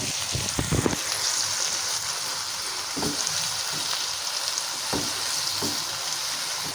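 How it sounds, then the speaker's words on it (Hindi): Tomatoes cook in a spiced masala for green moong dal, giving a continuous close sizzle with scattered scraping and tapping from a spoon as the mixture is stirred. "तो चलिए इनको अच्छे से हम इसमें मिक्स करते हैं, पकाते हैं और तब तक इसको पकाएंगे जब तक टमाटर सॉफ्ट ना हो जाएं"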